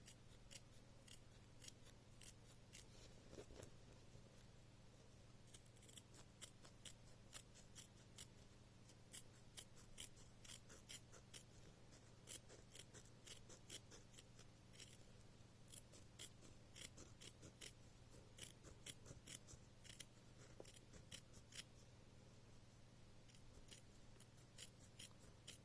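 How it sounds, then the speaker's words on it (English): Sharp scissors trimming fabric close along a row of stitching on a smocked dress collar, quick repeated snips in an irregular rhythm, close and fairly quiet, with no talking. "I'm going to trim off right up to that row of stitching all the way around"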